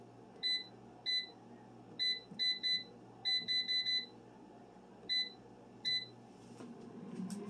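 Air fryer giving a series of short, high electronic beeps in irregular single and grouped bursts, clear and close over a low kitchen background hum.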